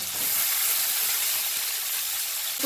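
Potatoes sizzle after going into a hot pan, a bright, steady hiss of frying that stays loud and even for a few seconds with no talk over it.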